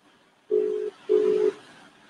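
A phone rings out unanswered while calling an agent: two long, steady electronic ringback tones, close and clear, separated by a short gap with faint room noise.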